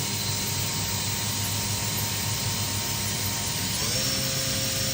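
A 2011 Makino F5 machining center spindle runs at a steady 6,000 RPM, giving a continuous high whine with a stable tone that shifts pitch near the end, alone and close up.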